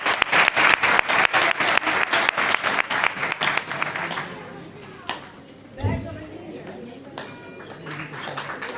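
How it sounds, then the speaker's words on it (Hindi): Loud, rapid clapping from a crowd for children at a Ram Katha religious gathering for several seconds, fading out, followed by quieter room noise and a few scattered sounds. "सभी बच्चों के लिए जोरदार तालियां"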